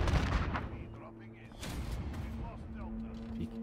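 A sniper rifle fires in the video game Modern Warfare with heavy booming shots and a rumbling tail, followed by in-game ambience and a second blast, with a voice talking under it.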